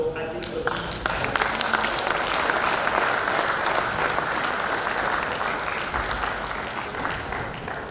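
An audience at a college lecture breaks into sustained, dense applause welcoming a guest lecturer, starting abruptly after a second and continuing loud and even before tapering slightly at the end.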